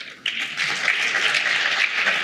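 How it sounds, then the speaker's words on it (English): Audience applause at a session on eco-industrial park tools, a sudden burst of dense clapping that starts after a brief pause and holds steady and loud to the end. "let's give a big round of applause for our women"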